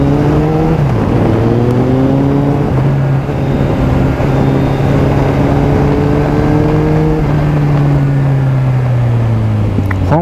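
A Suzuki GSX 1250FA motorcycle engine rumbles loud and close as the rider accelerates, the pitch rising through gear changes and holding in a steady throaty drone, with a brief rev at the end.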